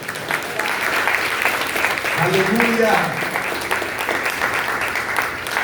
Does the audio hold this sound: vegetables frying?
no